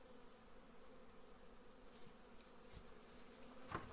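Carniolan honey bees at a Ukrainian apiary in the first warm spring days, a steady, soft buzzing hum around open hives with a few faint knocks and handling noises near the end.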